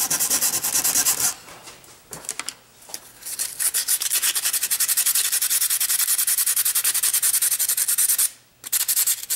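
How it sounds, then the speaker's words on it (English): Bondo filler on a 3D-printed prototype being sanded by hand: loud, close, rapid back-and-forth rasping strokes that run continuously with two short pauses. "you can see I've sanded it down a bit"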